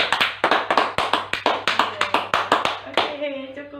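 A school class claps hands in a classroom in a fast, steady run of sharp claps, ending with a brief murmur of voices.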